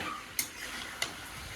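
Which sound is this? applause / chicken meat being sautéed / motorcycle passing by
chicken meat being sautéed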